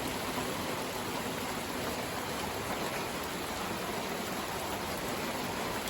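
A heavy evening rain shower in France during a red flood alert, a dense, steady roar of rainfall that fills the space evenly and without pause.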